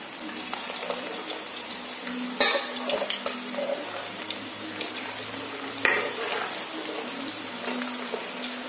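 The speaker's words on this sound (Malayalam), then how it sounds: "ഓയിലൊക്കെ നന്നായി ചൂടായി വന്നിട്ടുണ്ട്. അപ്പോൾ ഇതിലേക്ക് ഞാൻ കുറച്ച് കായയുടെ കഷ്ണങ്ങൾ ഇട്ട് കൊടുക്കുകയാണ്." Plantain pieces deep frying in hot oil for jaggery-coated banana chips, a steady close bubbling sizzle with a couple of brief stirring clatters, no talk.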